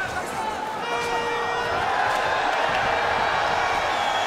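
Crowd noise at a kickboxing bout in Lyon, a steady roar of cheering and shouting across the arena through the third round, with commentators talking over it.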